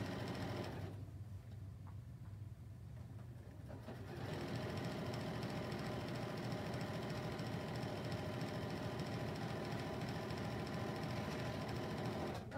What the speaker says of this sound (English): Sew it wrong side together and sew it down with your 1/4 inch seam.